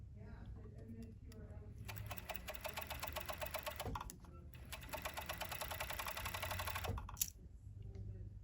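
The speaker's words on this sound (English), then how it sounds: "we're gonna pin that and go serge that on our 4-thread serger" A 4-thread serger stitches a fabric shoulder seam in two steady, close-up runs of fast rhythmic mechanical whirring, with a short pause between them and a low background hum.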